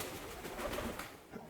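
A pet pigeon coos softly indoors, a low continuous murmur that runs steadily through the moment at modest volume with no talk over it.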